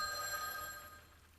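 A telephone bell in the visual novel game Witch on the Holy Night rings on and on, a bright, continuous, fairly loud tone that never pauses.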